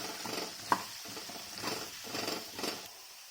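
Spiced yellow pumpkin pieces coated with turmeric, chili powder, coriander powder and salt are stirred in a pan, with soft scraping strokes in a slow rhythm over a gentle sizzle, close and clear without speech.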